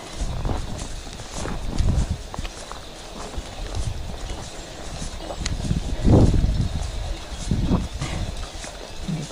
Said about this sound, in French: On ne peut pas bien les voir, mais c'est les moutons.